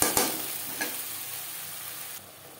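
Onion and garlic paste frying in a little oil in a wok, a quiet steady sizzle with a few sharp clinks of a utensil at the start.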